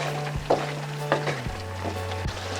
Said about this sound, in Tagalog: Hahaluin po natin para ma-blend po yung lasa ng ating beef at saka kalabasa.